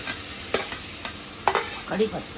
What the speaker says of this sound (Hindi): अब इसे करेंगे अच्छे से सौते